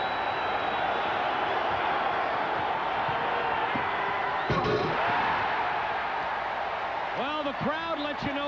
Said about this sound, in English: the crowd lets you know what they think of it